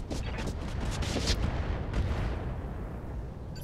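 Weapons fire from giant battle mechs in the BattleTech mod Roguetech, a cluster of heavy booming impacts and rumbling blasts in the first two seconds, then a decaying low rumble.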